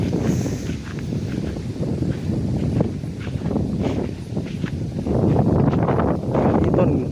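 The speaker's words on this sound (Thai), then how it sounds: "มีลมมีหยังก็ต้องขออภัยเด้อพ่อแม่พี่น้องเพราะว่าลมมันแห้งแล้วมื้อนี้" Wind blowing across a rice field, a steady low rumbling roar of gusts buffeting the microphone, loud and continuous throughout, with faint rustling on top.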